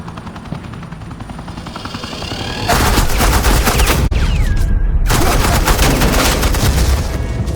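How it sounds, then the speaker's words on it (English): Suppressing gunfire breaks out in Batman: The Enemy Within, loud sustained automatic bursts joined by a helicopter, dense and close for several seconds after a quieter opening. "Suppressing fire."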